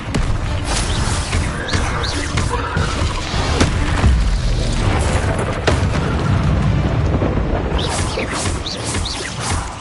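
Fire and blasting spells in a Harry Potter video game set off a continuous barrage of loud booms, whooshes and crashing impacts, dense and close with no pauses, with no talk over it.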